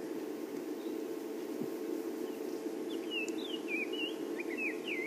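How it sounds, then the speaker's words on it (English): Several high, whistled calls from distant parrots come in a loose series over a steady low background hum. "Parrots calling to the far side."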